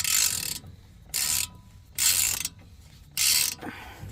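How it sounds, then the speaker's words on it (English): A Craftsman V-Series 1/2 inch ratchet drives out brake pins on a 2018 Ford Edge front brake job: four separate bursts of rapid, close ratcheting clicks, each under a second, with short quiet gaps between. "I'm pulling out the pins using my Craftsman V-Series 1/2 inch ratchet"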